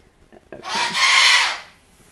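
A pet bird lets out a loud, harsh, sustained screech lasting about a second, calling out like a yell, preceded by a few faint short sounds in an otherwise quiet room.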